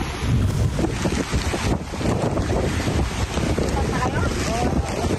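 Loud gusting wind buffets the microphone over the roar of crashing sea waves during a typhoon in Cagayan, constant and close.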